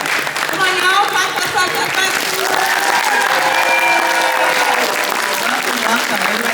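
Convention audience at a Weebcon voice-actor panel claps and cheers as the cast takes the stage, loud sustained applause with excited voices and a host talking over it.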